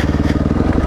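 A 2005 Yamaha WR 450 dirt bike engine running under load while riding, a loud, steady, throbbing drone with rapid pulsing close to the microphone over one second.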